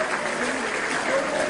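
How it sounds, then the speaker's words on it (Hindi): An audience at a Hindi poetry recital claps, a dense, even patter of applause filling the short stretch at moderate loudness without pause. "जिनके हाथ हो ताली बजा दो"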